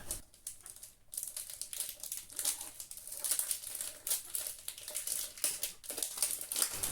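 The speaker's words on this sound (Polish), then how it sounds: "Niestety folię musiałam ściągnąć całą, bo kartonik się otwiera w ten sposób." Plastic foil wrap is peeled off a Red Shoes perfume box, giving close, continuous crinkling and crackling with a few sharper tearing bursts, heard alone at moderate volume.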